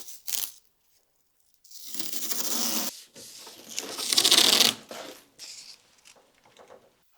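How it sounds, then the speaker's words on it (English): Low-tack 3M tape pulled off the roll and pressed along car door trim, giving bursts of close, crackling tearing noise between short pauses. "I'm going to use a bit of low-tack 3M tape."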